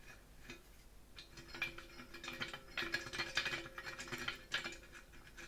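A screwdriver unscrewing a screw from a broken electric kettle: faint, quick clicking and ratcheting scrapes that come in uneven bursts, close by and quiet, with no talk.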